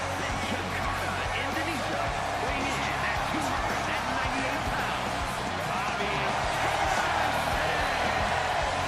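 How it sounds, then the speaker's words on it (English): Video game WWE 2K25 arena crowd roars steadily for a superstar's entrance, a loud, continuous wash of cheering and noise that holds level throughout, with a commentator's voice running over it. "it's great to hear the crowd give this superstar the reception."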